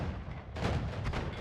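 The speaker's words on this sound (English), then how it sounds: "Whenever I shoot off this spark trigger right here, it fires off this payload" A Noita spark trigger spell fires its payload in a sudden, loud, broadband blast that cuts in partway through, following a steady noisy game bed and continuing as a rumbling, crackling burst.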